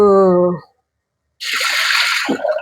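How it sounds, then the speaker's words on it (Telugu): Dal is being rinsed in water for palak dal, giving about a second of close, vigorous swishing and splashing. A short voice sounds before it, then a brief pause. "దీన్ని కడుగుదాం పప్పుని."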